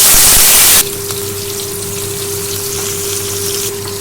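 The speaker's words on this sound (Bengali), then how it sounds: "চিংড়ি মাছটা ভালো করে ভেজে নেব।" Prawns hit hot white oil in a wok with a loud, bright sizzle that drops after a moment into a steady, softer frying hiss over a constant low hum.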